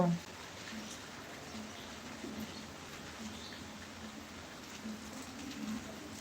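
Heavy rain hisses steadily and evenly throughout, with faint voices murmuring in the background.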